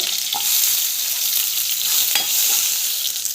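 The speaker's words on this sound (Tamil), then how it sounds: "நான் வந்து சின்ன வெங்காயம் வந்து ஆட் பண்ணுறேன்" Small shallots and garlic fry in a pan with a steady, bright sizzle, with a few soft stirring scrapes near the start and middle. No one speaks.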